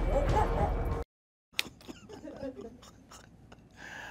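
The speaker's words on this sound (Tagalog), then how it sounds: "Kahol ng kahol." A dog barks and yips in a few sharp bursts, with louder mixed noise at the start, a short silent gap, then scattered close barks and clicks to the end.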